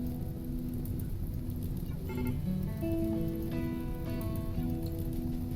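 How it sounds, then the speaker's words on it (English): Steady rain hisses over the landscape in the colony-building game RimWorld, a continuous even wash of patter, with faint game tones and music notes drifting through and no talking. "Oh hey, finally it starts raining."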